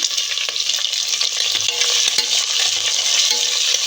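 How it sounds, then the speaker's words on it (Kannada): Garlic and diced onion fry and crackle steadily in hot oil, with a constant bright sizzle and occasional stirring scrapes in the pan, close and fairly loud without any voices. "ಆಯಿಲ್ ಎಲ್ಲಾದರೂ ಫ್ರೈ ಮಾಡ್ಕೊಳ್ಳೋಣ"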